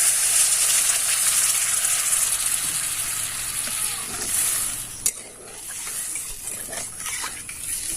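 Spice masala for a fish curry frying in a pan after a little water is added, giving a steady hiss and sizzle with stirring scrapes and one sharp clatter partway through.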